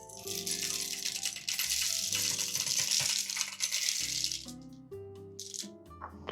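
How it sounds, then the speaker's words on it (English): 18 grams of coffee beans poured into a hand grinder, a loud rattling cascade that thins out into a few scattered clicks and tinkles as the last beans drop. "I'll add 18 grams of beans."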